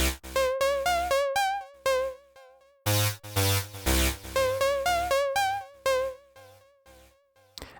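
A short electronic pattern plays two different sounds, both completely dry with no reverb. Plucky pitched synth notes with rapid wobbling tones alternate with a punchy bass-heavy hit, all crisp, loud and close.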